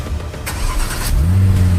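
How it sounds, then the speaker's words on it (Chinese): BAIC BJ60 Thunder SUV cranking and firing up after being thawed from a freeze, brief starter whir followed by the engine catching into a loud, steady idle. "好，我们来打一下火试一下。"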